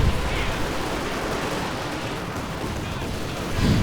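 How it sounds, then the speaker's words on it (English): Katyusha rocket artillery barrage in Company of Heroes 2, a dense continuous roar of explosions and gunfire filling the whole stretch, loud and unbroken with a faint swell at the end. "the Katyusha barrages constantly unleashing hell will collapse"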